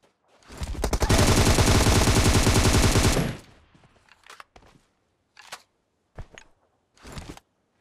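Rapid burst of automatic gunfire from the mobile battle-royale game PUBG Mobile, loud and dense for about two seconds, followed by a few short, sharp isolated shots and clicks.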